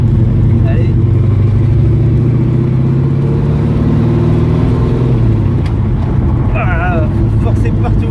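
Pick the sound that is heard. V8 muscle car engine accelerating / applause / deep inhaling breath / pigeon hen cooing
V8 muscle car engine accelerating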